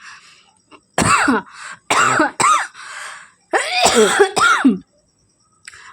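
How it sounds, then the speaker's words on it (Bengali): Several harsh, hacking coughs from a person with a cold come in quick clusters, loud and close, separated by short pauses. "কাশিটা প্রচণ্ড হচ্ছে"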